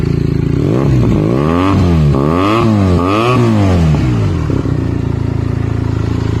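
Loud Benelli TNT 300 motorcycle with an IXIL X60 aftermarket exhaust revving repeatedly, pitch climbing and falling in several sharp throttle blips before settling back to a rumbling idle, close up.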